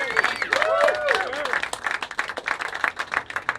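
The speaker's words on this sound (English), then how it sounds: "Give them another round of applause there, folks." A live crowd at a piping festival applauds performers with steady clapping and some cheering, while a voice speaks over the start of it.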